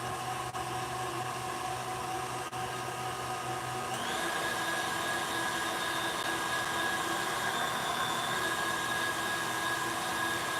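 A pasta machine rolls lasagna dough with a continuous mechanical whirring hum that shifts in pitch partway through and carries on steadily.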